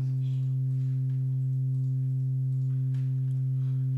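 Low, steady synthesizer tone pitched two octaves down with added reverb, sustained and continuous with a few harmonic overtones, heard alone with no talking.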